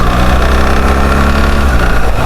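A BMW GS-series boxer motorcycle engine idles at a standstill, a steady, loud, close rumble with an even low throb and no voices.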